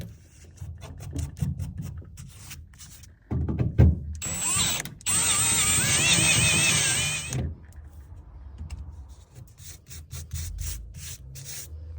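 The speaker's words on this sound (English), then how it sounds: "the holes are all drilled" Power drill boring holes in a car's floor pan while installing an LS engine harness, heard as a sustained whining burst of a few seconds amid scattered shop clatter and rubbing, fairly close and moderately loud.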